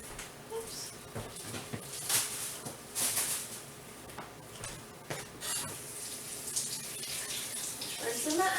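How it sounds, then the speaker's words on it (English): Tap water runs steadily over an onion being rinsed in a kitchen sink while making a cheddar potato, ham and broccoli casserole, a continuous close splashing hiss with brief louder gushes as the onion is turned. "Rinsing my onion off."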